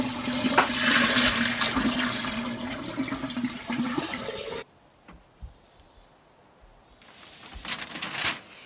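Water rushes through newly installed sink plumbing in an off-grid cabin, a loud steady gush that stops abruptly partway, then a fainter trickle and gurgle return near the end.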